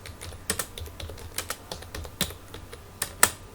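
Soft, quick clicking of keys on a computer keyboard while text is typed into a word processor, an irregular patter of taps with a few sharper strokes, quiet and close.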